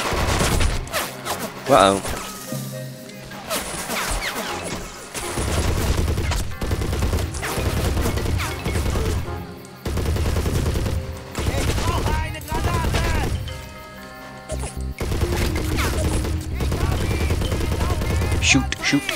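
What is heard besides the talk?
gunfire in the video game Men of War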